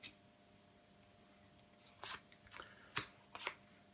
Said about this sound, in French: Laisse-moi quelques instants pour disposer toutes les cartes de ton tirage